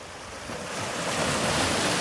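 Ocean surf rolls onto the beach at Holetown in St. James, Barbados, a steady wash that grows louder, mixed with gusty wind buffeting the microphone.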